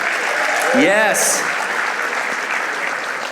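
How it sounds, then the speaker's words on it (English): A comedy show crowd breaks into loud applause and cheering, a dense wash of clapping that carries on steadily, with a short whoop rising near the start and a single voice calling out briefly. "Give yourselves a round of applause for being out here."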